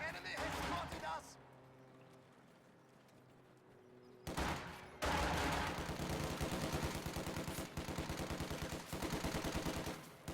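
Video game battle with bursts of rapid gunfire and machine-gun fusillades, loud and dense, breaking off briefly and then resuming in a sustained rattling barrage.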